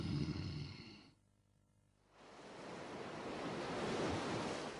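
Cartoon ocean surf rolling and breaking on a beach, a broad roaring wash that drops away briefly for about a second before swelling back in, loud and continuous.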